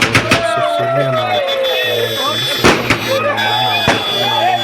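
Firecrackers pop at a wedding procession, several sharp loud bangs spread irregularly across the clip over a steady drone of music and crowd noise.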